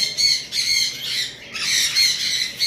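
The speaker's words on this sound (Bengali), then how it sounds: "এখানে একটা ক্রিমসন বেলি কুনুরের নর আমার কাছে রয়েছে ফুল অ্যাডাল্ট" An adult male crimson-bellied conure gives harsh, repeated squawks, loud and close, in two bursts with a short pause between them.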